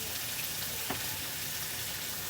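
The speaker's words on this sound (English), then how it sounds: "we do not want our hash browns to dry out. So we're going to put some more oil on." Hash browns fry in oil in a pan for a breakfast sandwich, giving a steady, soft crackling sizzle with one brief louder pop; no one talks.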